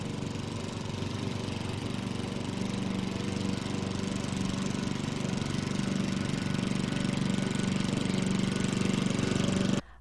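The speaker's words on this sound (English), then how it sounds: "A gas lawnmower 31 meters or 100 feet away will create a sound level of approximately 75 decibels." A gas lawnmower engine runs steadily and loudly on its own for about ten seconds, a constant droning buzz with a knocking texture, then cuts off abruptly at the end.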